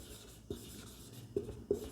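Chalk or marker strokes on a board during a maths lesson, three short scratchy taps spaced about a second apart, close and fairly quiet, with no talking.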